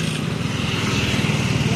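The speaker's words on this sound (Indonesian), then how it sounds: "itu bus om" A bus rumbles past nearby, a steady low diesel engine growl with a pulsing throb, heard alone for a couple of seconds.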